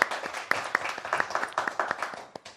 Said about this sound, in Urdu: ان کے لیے بھرپور تالیاں